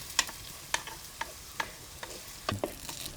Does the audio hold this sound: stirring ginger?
yes